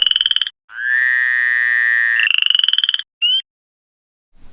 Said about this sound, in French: d'innombrables grenouilles grimpèrent du Nil et des étangs